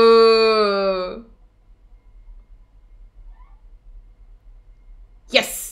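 A cat meows in an anime episode: one drawn-out, clearly pitched meow up close at the start, then near silence with a brief noisy burst at the very end.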